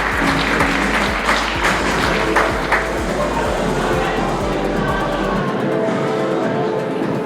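Applause for a contestant on the runway at the Miss Graticolato Romano 2025 beauty pageant in Borgoricco, Padova: crowd clapping over a low rhythmic music bed that cuts out near the end, with faint voices mixed in.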